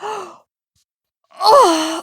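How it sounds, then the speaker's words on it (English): A person's loud, drawn-out yawn, voiced and falling in pitch, preceded by a short breathy vocal sound and a pause of silence. "That was my yawn."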